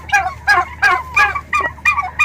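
Several sharp gobbling calls from a turkey in a simple, muddy backyard pen come in a rapid, loud, close burst with no talking.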